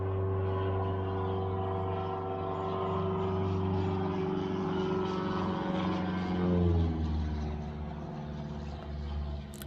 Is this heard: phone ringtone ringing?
no